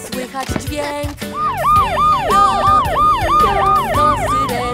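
Fire engine siren in a children's song, a loud wailing two-tone sweep that rises and falls repeatedly over musical accompaniment, following a few short opening notes.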